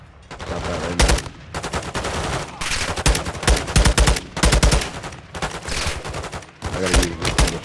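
Loud, rapid bursts of gunfire from the video game Modern Warfare II, with repeated sharp volleys and short gaps between them, set against a steady background of game noise.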